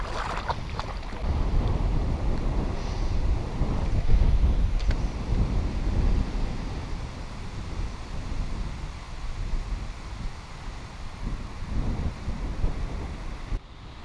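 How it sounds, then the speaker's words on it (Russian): Strong, gusting wind buffets the microphone in a constant low roar for a long stretch while pike fishing among water lilies, with a faint wash of water beneath it. "Просто нереальный ветер."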